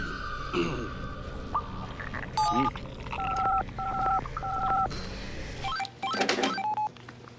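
A telephone's keypad tones beep in short bursts as a number is dialed, heard close up over a busy cartoon soundtrack with voices talking.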